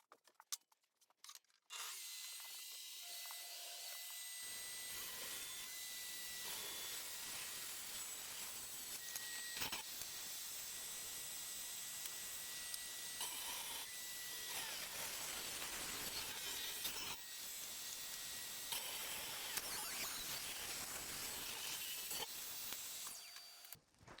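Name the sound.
table saw cutting beech wood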